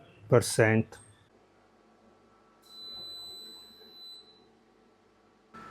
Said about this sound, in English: When you hear this alarm, the machine stops flashing